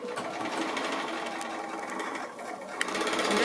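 A sewing machine with a quarter-inch foot runs steadily at a regular stitch length, stitching quilt pieces with a rapid, even mechanical whir that ends in a small click.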